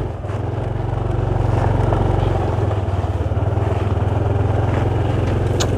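A convoy of ATV-like off-road vehicles passes on a hillside trail near Pattaya, with a loud, steady engine drone and a throbbing putter that stay close throughout.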